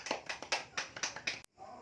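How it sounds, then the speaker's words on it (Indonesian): A few people clap in a rhythmic pattern to applaud a student group in a fourth-grade classroom, about seven distinct claps that end with a sharp tap and then quiet. "Beri tepuk tangan untuk kelompok 3."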